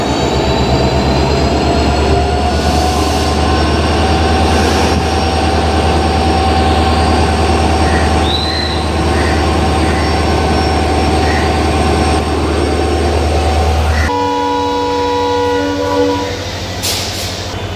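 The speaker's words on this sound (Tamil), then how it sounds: "ராமேஸ்வரம் ரயில்வே ஸ்டேஷன்லேருந்து கிளம்பியாச்சு" The Rameswaram–Madurai passenger train pulls out of Rameswaram station with a loud, sustained diesel engine drone and rumbling wagons, a long horn sounding partway through before the tone shifts as it gathers pace.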